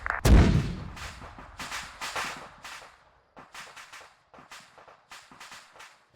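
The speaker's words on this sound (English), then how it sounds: "Mortars are firing." A sharp, deep mortar launch thump opens an Arma 3 firefight, followed by a string of quieter, irregular distant bangs and cracks with short gaps between them.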